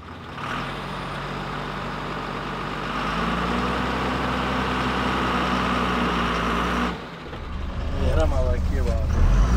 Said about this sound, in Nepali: ट्रकबाट खट्याट खट्याट आवाज आयो